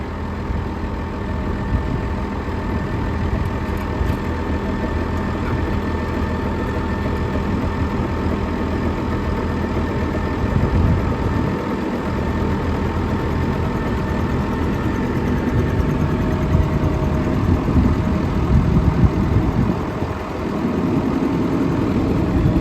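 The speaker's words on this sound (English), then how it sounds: "Turning this motor here. Turning the electric motor." An electric motor on a new saw runs steadily, turning the blade in an outdoor wood-clearing setting, a continuous close hum with a slight rise in intensity midway and no talk over it.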